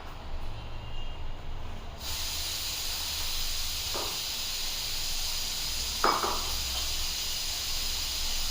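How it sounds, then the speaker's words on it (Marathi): A pressure cooker holding chana dal hisses with a continuous steamy rush, two short louder bursts of steam breaking through, heard close and fairly quiet. "चला आता ठेवले कुकरला चण्याची डाळ शिजायला."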